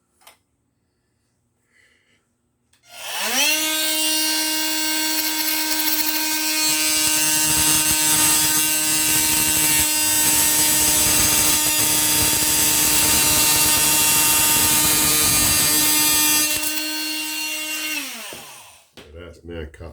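An oscillating multi-tool cuts a mitre through wooden beading, a loud steady buzzing whine that starts abruptly after a short pause, runs for about fourteen seconds and then stops, with a few small clicks before and after.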